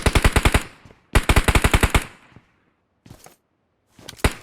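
Automatic gunfire in the video game PUBG Mobile: two long, rapid bursts of close, loud shots, followed by a short quieter burst and a final few shots, with silent gaps between them.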